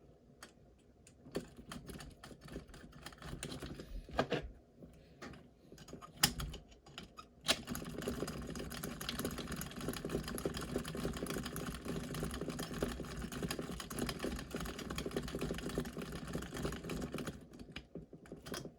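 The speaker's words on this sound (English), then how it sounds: "So I'm just going to bolt this thing in here." Bolting a long 40mm bolt into a TF2 anti wrap bar, close rapid clicking and ratcheting taps, sparse at first and then continuous and busier.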